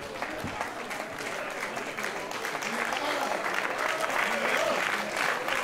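A wrestling crowd at a live PWÖ show applauds steadily and loudly, the dense clapping swelling slightly toward the end, with faint voices mixed into the roar.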